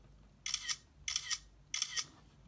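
Three crisp iPhone camera shutter clicks, each a quick double snap, evenly spaced about half a second apart, close and clear against a quiet background.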